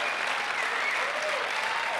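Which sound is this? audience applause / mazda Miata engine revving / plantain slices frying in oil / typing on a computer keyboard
audience applause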